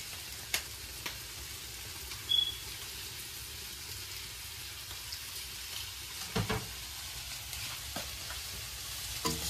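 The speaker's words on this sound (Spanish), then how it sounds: "Vamos a agregar el jugo de limón." Shrimp frying in butter with peppers keep up a constant soft sizzle in the pan as lemon juice goes in, with occasional spoon scrapes and clinks against the metal.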